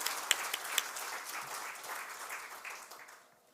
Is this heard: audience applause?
yes